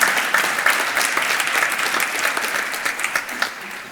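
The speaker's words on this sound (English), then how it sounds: "A warm applause for Valeria." Warm audience applause at a startup demo day pitch event, dense clapping that starts strong and gradually thins into a few separate claps near the end.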